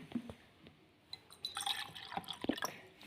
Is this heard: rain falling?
no